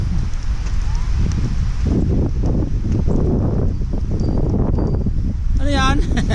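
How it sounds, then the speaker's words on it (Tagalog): Wind gusting across a mountain view deck among tall pine trees, a loud, rumbling buffet against the microphone throughout, with people talking under it and a brief high whistling sound near the end. "Lamig, sarap ng hangin."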